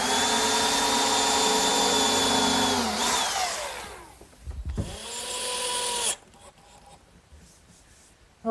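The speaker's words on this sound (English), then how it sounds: "Now I'll just drill and countersink for the screws." A power drill bores and countersinks screw holes in wood while assembling a children's sandbox. The motor whines loudly and steadily, then winds down and stops with a brief bite into the wood before falling quiet.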